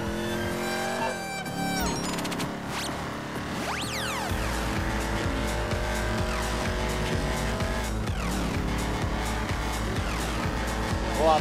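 Car driven in a video game, a continuous loud engine drone with gear-shift sweeps and rising revs, tire screeches and a rhythmic low thumping, mixed with in-game music and sounds and no talking.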